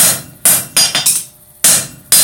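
Hammer blows on an anvil while forging tongs, about seven loud ringing metallic strikes at an uneven pace, some in quick pairs, each fading out before the next, with no talking.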